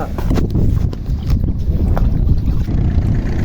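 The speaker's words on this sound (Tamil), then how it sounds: "கைஸ், போட்டில் போயிட்டுருக்கோம்." A fisherman's boat moves along on the water, giving a loud steady motor rumble mixed with buffeting wind noise and splashing for a few seconds.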